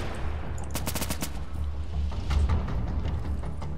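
Gunfire in the video game Insurgency, a rapid burst of automatic shots followed by scattered single cracks over a low rumble, fairly quiet and heard alone without speech.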